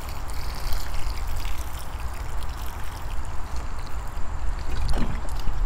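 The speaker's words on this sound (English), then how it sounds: "So now we're just gonna give it some good watering." Water poured onto seedlings in pots made from toilet paper and paper towel tubes, a steady close trickle and splash that runs throughout and swells toward the end.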